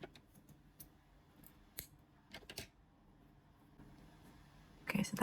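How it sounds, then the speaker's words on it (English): Scissors snipping yarn after finishing a crocheted rose petal: a few sharp, quiet metallic clicks spaced through the moment, close by, ending in a brief louder rustle of handling. "you can cut the yarn"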